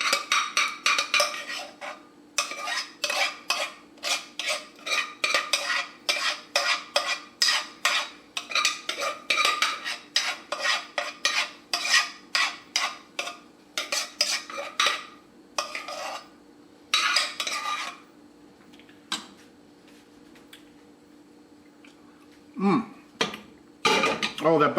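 Pasta being stirred through buffalo cheese sauce in a pot, with a dense run of quick scraping, clinking utensil strokes in bursts, a pause near the end, then a few final scrapes.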